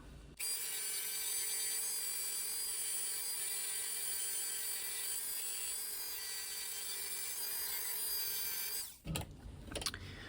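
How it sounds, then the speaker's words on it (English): A Dremel rotary tool fitted with sanding bits whines steadily and close for about nine seconds as it sands the edges of a leather keychain, then cuts off, leaving a few soft handling knocks. "I have a Dremel here with some sanding bits on them that I like to use"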